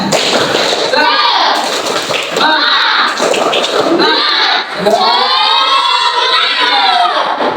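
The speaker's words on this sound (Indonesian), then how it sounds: "kita tepuk semangat dulu. Tepuk semangat." A class of schoolchildren chants loudly together in a classroom, their voices rising and falling over rhythmic group clapping and thumps.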